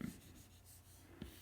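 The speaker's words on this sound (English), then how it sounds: "Just sort of sketch these lines in really loose until you get a nice marshmallowy type" Stylus sketching loose lines on an iPad Pro screen produces faint, soft scratchy strokes, a few brief swipes in a quiet room with no talking.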